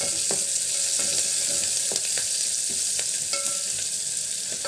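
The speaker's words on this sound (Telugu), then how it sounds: "కరివేపాకు ఎర్రగడ్డ తెల్లగడ్డ చూడండి బాగా కలుపుకొని కొంచెం కలర్ వచ్చేదాకా" Curry leaves, onion and garlic frying and being stirred in a pan for a Telugu leafy-greens curry, a steady close sizzle with scraping spoon strokes recurring every second or so, no talking.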